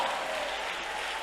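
Congregation clapping hands together in a church prayer service, a steady dense wash of applause held at even loudness throughout, with no clear voices standing out.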